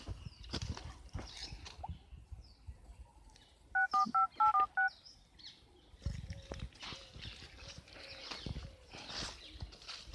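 A telephone being dialed: a quick run of about six keypad tones close by, set between bursts of other noise and movement.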